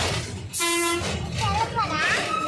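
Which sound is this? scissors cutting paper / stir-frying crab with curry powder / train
train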